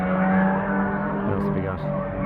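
Cars including a second-generation Toyota MR2 run on the Fuji Speedway circuit, heard as a loud continuous engine drone that shifts slightly in pitch while a person talks over it.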